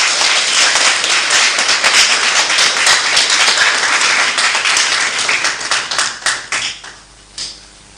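Sustained applause from an audience at an event honouring a speaker, dense and loud for most of the stretch, then thinning into scattered claps and fading near the end.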